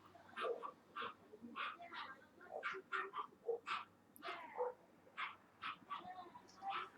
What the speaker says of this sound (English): I apologize for the dog noises.